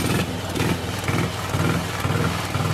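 Kick-started motorcycle engine running after a big kick with valve release lever and choke, a close, loud, rhythmic thumping idle with uneven pulses.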